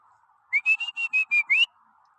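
A person whistles outdoors in nature to catch an animal's attention: a quick series of seven short, sharp, high whistle blasts, the last one rising, close and clear over faint background.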